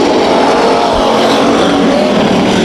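American stock cars racing in a heat race at Bakersfield Speedway, a loud, continuous engine roar from the pack on the oval with no break and no talk.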